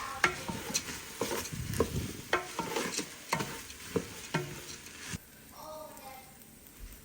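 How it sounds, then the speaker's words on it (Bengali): Rice being stirred and fried in a pot for chicken biryani, with repeated scraping clinks of a spoon against the pot over a soft sizzle, close by, then a quieter stretch near the end. "এগুলা দিয়ে ভালোভাবে এখন আমি চাউলগুলাকে কষিয়ে নিব কয়েক মিনিট"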